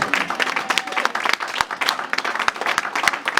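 A church congregation at a Sunday service claps and applauds continuously for a few seconds, a dense, lively patter of many hands at moderate level with no speech over it.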